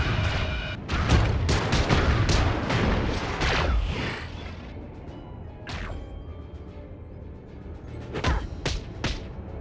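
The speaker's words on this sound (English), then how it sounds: "Watch out for the energy blasts!" Energy blasts fire in the video game Justice League Heroes on PS2, a rapid flurry of loud, crackling booming bursts that thins into scattered single blasts and heavy thuds.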